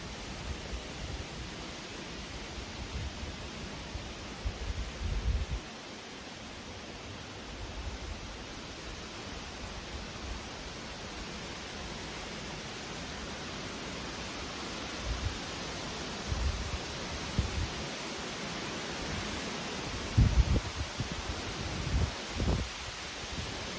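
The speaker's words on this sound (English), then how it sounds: "I don't know what the strength of the wind is, but it's windy." Steady wind gusting across an exposed ridge on the Appalachian Trail, a continuous broad rushing roar with low buffeting bumps against the microphone that rise and fall throughout, no talking.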